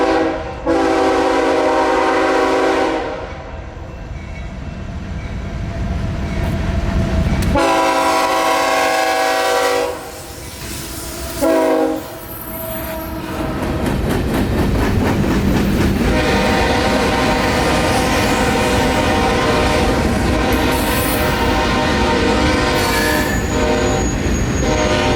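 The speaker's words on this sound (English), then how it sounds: "So here came my last ever Q604, rounding the curve at Bushnell going into the siding." Freight train Q604 sounds its horn in long loud blasts as it rounds the curve at Bushnell, Florida, into a siding at night, with steady rumbling and clattering of the rolling cars throughout.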